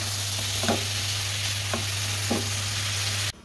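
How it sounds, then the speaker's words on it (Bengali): Eggplant sizzles steadily in a pan with dried bamboo-leaf fish, a constant close frying hiss with a few soft stirring taps before it cuts off abruptly. "এখন আমি এই যে বেগুনগুলো দিয়ে দিলাম। এটাও গলে যাবে, একটু কষায় নিতে হবে।"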